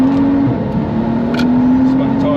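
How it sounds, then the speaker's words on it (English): A 570 bhp BMW 135i with six-pot calipers, running on semi-slick tyres, spins its tyres under hard acceleration, giving a loud steady engine drone with a rising tone and some scrabbling noise from the car interior as people talk over it. "Spun the tyres a bit then."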